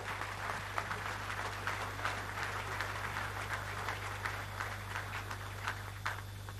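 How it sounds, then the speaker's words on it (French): Faint, distant applause from an audience honouring the president of the Democratic Republic of the Congo at an award ceremony. It is a steady patter of many hands over a loud low electrical hum, with no voices. "tonnerre d'applaudissements"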